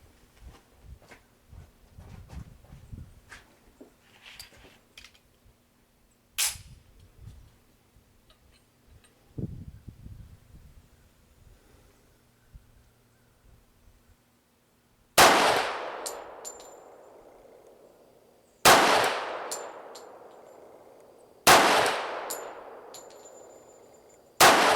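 A Ruger SR1911 pistol fires from a bench rest; after quiet handling clicks and clatter, sharp loud shots ring out at intervals of about three seconds, each one followed by a decaying ring.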